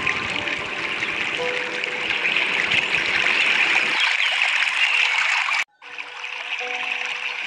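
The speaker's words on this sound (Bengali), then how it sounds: "কষিয়ে নেওয়ার পর একটু জল দিয়ে দিলাম" Water pours steadily into a pan of potato and chicken curry, a continuous splashing trickle that changes tone partway through, briefly cuts out, then resumes, close and moderately loud with no voices.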